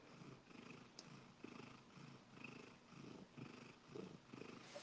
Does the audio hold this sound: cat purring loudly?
yes